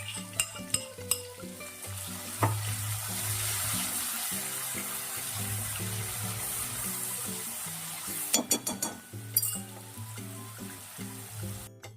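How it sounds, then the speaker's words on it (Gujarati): Ginger, garlic and green chili paste sizzles loudly in hot oil tempered with cumin, asafoetida and curry leaves, a steady crackling fry with occasional metal spoon clinks against the pan; music plays underneath. "આપણે આદુ લસણ અને મરચાંની જે બનાવી હતી પેસ્ટ એને એડ કરી દઈશું"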